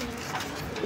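Pigeons coo softly at a pigeon farm selling breeds such as Mundian, Shoking and Lahori, a low murmuring call heard against busy background noise.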